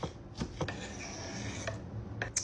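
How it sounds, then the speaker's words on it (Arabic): A knife works through cucumber, hot pepper and tomato, finely mincing them for a Moroccan sardine dish, with faint rasping and a few scattered soft chops close by. "افرم خيارة وفلفل حار، كمان حبة بندورة مفروم ناعم"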